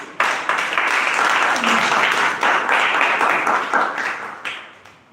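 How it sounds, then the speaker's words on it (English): A crowd at a Toastmasters meeting breaks into a long round of steady applause, dense and fairly loud, with many hands clapping together before it tapers off near the end. "A big round of applause."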